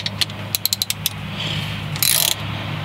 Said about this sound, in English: you're going to use a 15 millimeter socket.